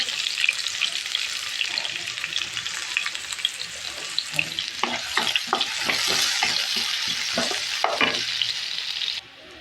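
Onion and spice paste fries in hot oil in a pan, with a steady loud sizzle all the way through and repeated scraping stirs in the middle and near the end.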